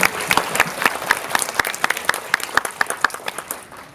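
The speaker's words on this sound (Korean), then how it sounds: "박수 부탁드립니다" Audience applause in a cinema auditorium at a Korean film talk event at COEX Megabox, a dense, steady wash of many hands clapping close by that thins out toward the end, with no talking.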